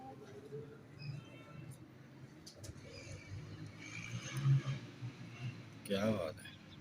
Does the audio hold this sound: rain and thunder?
no